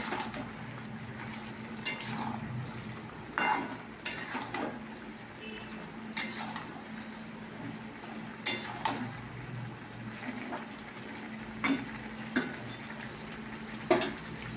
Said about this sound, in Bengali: বেগুনগুলো আমি দিয়ে দিলাম। বেগুনগুলো এবার এখানে নাড়াচাড়া করে নেব।